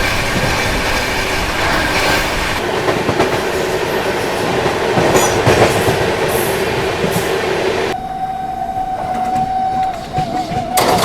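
The Shiv Ganga Superfast Express running at speed alongside the Prayagraj Dadri Special as it overtakes, a loud steady rolling roar with rhythmic wheel clatter, dropping to a quieter hum with a faint tone near the end.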